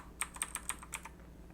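Arrow keys on a computer keyboard pressed while laying out text in PowerPoint: about six quick, crisp taps spaced roughly a fifth of a second apart, close and clear, with no voices.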